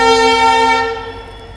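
The Rajasthan Sampark Kranti Express on the Delhi to Jodhpur route gives a loud, steady horn-like tone that fades as the train slows down.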